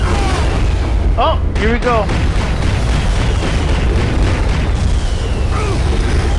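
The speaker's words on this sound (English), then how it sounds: "I'll just use the grenade launchers." Grenade launcher blasts in the game Turok 2 rumble as a continuous loud booming mix with chirpy game effects, while a person talks briefly over it.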